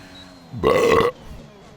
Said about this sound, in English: My burps, guys, are getting better.